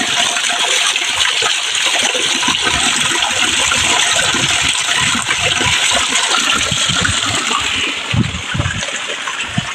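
Loud, steady rushing water with gushing and splashing, continuous and close throughout.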